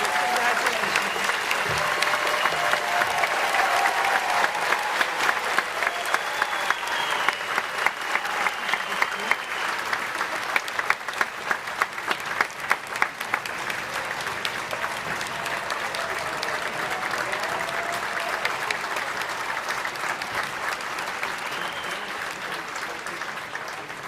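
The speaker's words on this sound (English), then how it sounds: "let's give another round of applause" Sustained applause from a large crowd at a UCLA commencement ceremony, dense clapping that holds steady for the whole stretch, with scattered voices mixed in.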